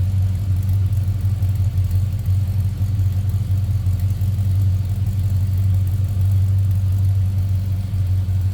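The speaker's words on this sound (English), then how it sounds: "This is a good sounding car. Listen to this." A 1970 Ford Torino GT engine idles with a deep, steady rumble, smooth and even throughout, close to the listener with no voices.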